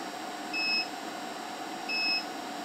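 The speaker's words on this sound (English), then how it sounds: "Oh, it's starting to beep." Two short electronic beeps from a TopBull 2000 W pure sine wave power inverter alarm under a load of about 1690 W, spaced about a second apart, sounding clearly over a faint steady hum.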